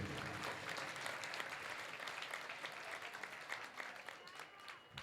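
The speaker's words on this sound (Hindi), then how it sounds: "और एक जोरदार तालियां हमारी यति किशोरी के लिए।" A gathering at a devotional bhajan sankirtan applauds the singer Yati Kishori with continuous, fairly dense clapping. Crowd voices and a speaking voice run underneath the applause throughout.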